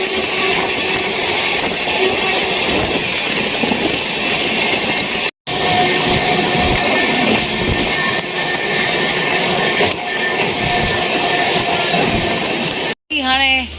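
A train rolls into Bandra station in Mumbai with a loud, steady rumble and rushing noise that fills the whole stretch, briefly cut twice, with faint voices under the din.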